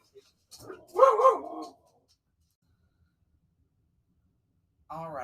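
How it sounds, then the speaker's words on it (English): A household dog barks a few times close by, the barks bunched together early on, followed by a few seconds of quiet before a person starts talking near the end. "that was our dog making a guest appearance"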